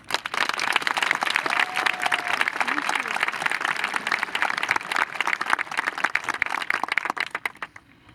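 Audience applause fills a high school graduation ceremony hall, a dense, steady wash of clapping from a large crowd that holds for several seconds before thinning out at the end.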